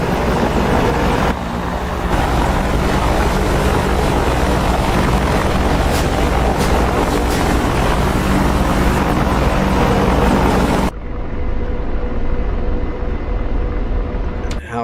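A Chinook helicopter in a video game gives a loud, constant rotor drone and rumble across most of the span before cutting abruptly to a quieter low hum near the end.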